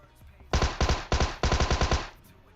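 Automatic gunfire from shooting down enemies in a video game: several rapid, loud bursts fired back to back at close range, with no talking over them.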